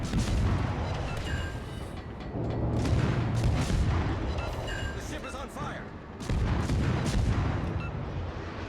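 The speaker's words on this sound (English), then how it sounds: "You can see I'm finally blind firing right now over the island" Fletcher destroyer guns blind-firing over an island in a naval combat game, heard as dense, continuous booming salvos with heavy low rumble and a voice speaking over the battle.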